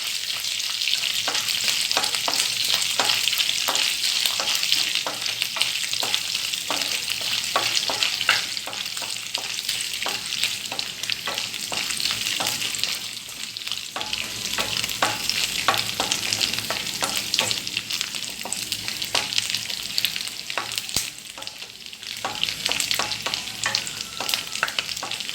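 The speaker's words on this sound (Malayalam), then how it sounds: "തേങ്ങ കൊട്ടിൻ്റെ ഒക്കെ ഒന്ന് കളറ് മാറി വരുന്നത് വരെ നമുക്കിതൊന്ന് മൂപ്പിച്ചെടുക്കാം." Chicken dry roast cooking with coconut pieces and split dried red chilli, a steady loud sizzle of frying in a pan with frequent scraping stirs throughout, no talking.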